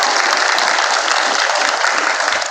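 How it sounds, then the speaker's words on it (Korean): A crowd at a labor-student solidarity rally at Seoul National University claps steadily and loudly for a union leader, a dense, unbroken wash of applause with no talk over it. "다시 한번 박수 부탁드립니다"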